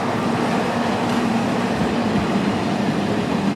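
A train passes close to a train station, a steady, loud rumbling wash of rail noise with a low mechanical hum running through all of it and no voices.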